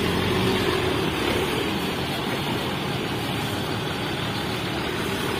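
ANS coach bus engine running steadily close by, a dense continuous rumble with no pauses or speech.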